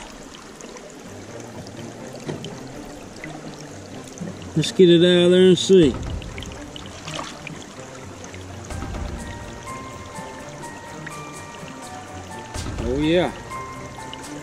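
Shallow creek water runs and trickles over a pile of rocks in steady low wash, with sporadic splashes and handling noises nearby while people talk over it.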